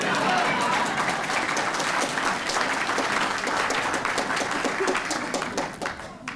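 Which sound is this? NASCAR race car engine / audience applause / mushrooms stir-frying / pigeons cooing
audience applause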